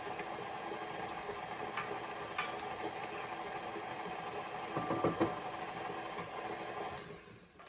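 An electric mixer beats cake batter with vanilla for a blueberry coffee cake, giving a steady, even whirring hum that runs the whole time, swells briefly near the middle and trails off at the end.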